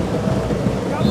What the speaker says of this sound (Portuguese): Estou impressionado com a força da chuva aqui em São Caetano do Sul.